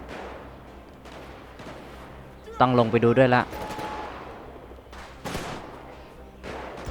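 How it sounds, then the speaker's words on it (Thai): Gunfire in GTA V with a zombie mod crackles in short bursts, loud in the middle and quieter again near the end, with someone speaking casually between shots; a pistol is among the guns. "ทำไมได้ยินเสียงปืนเนี่ย"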